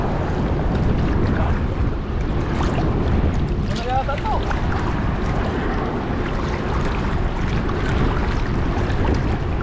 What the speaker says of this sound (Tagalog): Grabe yung bugso ng alon sa ano no.